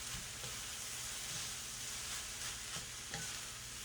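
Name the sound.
stirring and tossing fried rice in a pan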